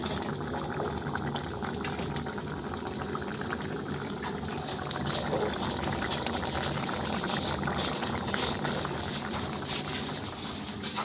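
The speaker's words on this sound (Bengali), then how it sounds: "এখানে তরকারি হচ্ছে, ডিমের ক্যারি ফুটছে" Egg curry boils in a pot on a home stove. A steady bubbling and burbling continues at close range without pause.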